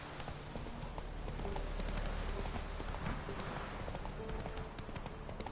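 Horse hooves gallop in The Witcher 3: Wild Hunt, a steady rapid clip-clop rhythm running throughout, fairly quiet and continuous with no voices.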